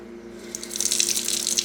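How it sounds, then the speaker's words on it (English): Cold tap water starts running into a bowl for rinsing microgreens, a faint hum giving way to a close, steady splashing gush that builds over the last second. "I'm going to run cold water."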